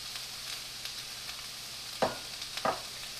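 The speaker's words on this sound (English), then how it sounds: "And then I'll start to saute everything together." Garlic and green onions sauté in a pan with a quiet, steady sizzle, broken by two brief scraping stirs near the end, close and without talk.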